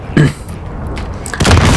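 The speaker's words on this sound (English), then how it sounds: "they've got an airstrike" Video game airstrike in a shoot house map: two heavy booming explosions, the first short and the second longer and rumbling, with a quieter stretch between them.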